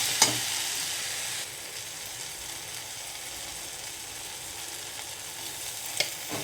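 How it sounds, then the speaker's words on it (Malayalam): Chopped tomatoes are stirred into egg roast masala in a pan, a continuous soft sizzle with a louder scrape at the start and another near the end. "ഇനി നമുക്ക് തക്കാളിയും കൂടെ ആഡ് ചെയ്തൊന്ന് മിക്സാക്കി കൊടുക്കാം"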